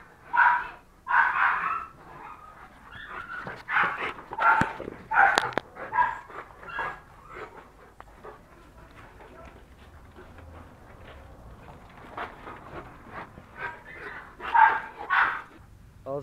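Rottweilers bark in repeated bursts, some close and loud, with yips and whimpers mixed in, while a person talks in between.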